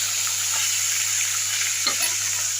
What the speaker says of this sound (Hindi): ମାଛ ଭଜା ହେଇଗଲାଣି